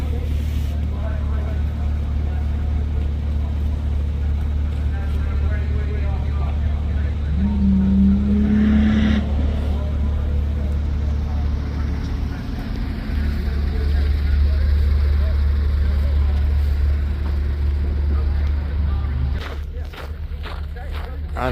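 Mitsubishi race car on an ice track at the Zell am See ice race, a steady engine drone throughout with a brief rising whine midway and voices in the background.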